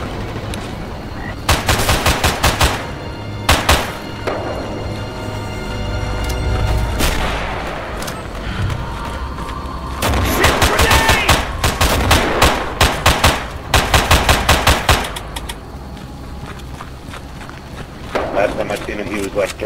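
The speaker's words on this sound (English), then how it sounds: "Careful, boys, watch for that MG." Rapid machine gun bursts rattle in the Hell Let Loose World War II shooter, several loud sustained volleys separated by brief pauses, with distant booms and explosions between them.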